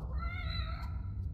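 A cat in the video game The Evil Within gives a single drawn-out meow with a rising then falling pitch, fairly close and clear over a low background hum.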